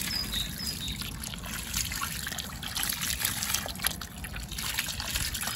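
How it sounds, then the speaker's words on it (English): Water pours from a can or hose onto freshly transplanted rose bushes in a garden, a steady close trickle and gush running for several seconds with no talking. "Give it the water."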